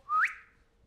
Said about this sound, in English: So a whistle.